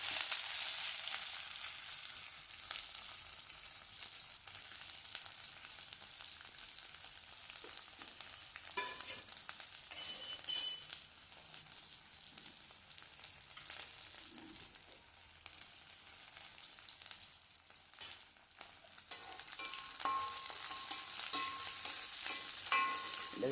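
Onions, green chili, cinnamon and cloves sautéing in oil in a pan for a yellow pumpkin and cowpea olan, a steady close sizzle with occasional scraping stirs and clatters of the spoon.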